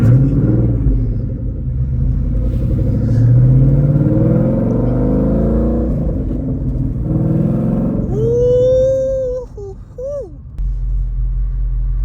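Low, rumbling 2013 Ford Mustang GT engine runs steadily while driving, with a brief rising whine near the end and a voice speaking over it.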